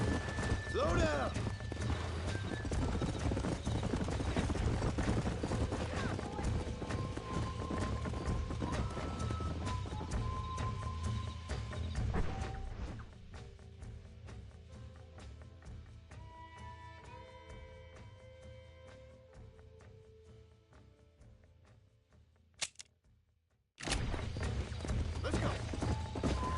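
Horse hooves clip-clop in the Western video game Red Dead Redemption, a steady galloping patter mixed with game music and ambient sound, with voices talking over parts of it.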